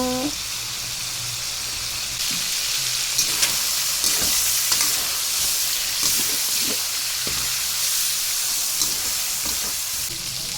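Chicken for a sour soup sizzles and hisses loudly in a pan as it is stirred, with scraping strokes and small clinks over a continuous frying crackle, and a voice briefly speaks at the start.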